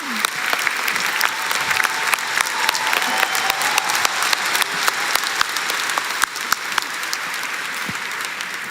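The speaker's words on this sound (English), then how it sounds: "Can we get a big round of applause for Maria and Shirley?" An audience at the Canva Create event applauds two honored guests with a sustained ovation of many hands clapping at once, sharp individual claps standing out against the steady roar, fairly loud and continuous.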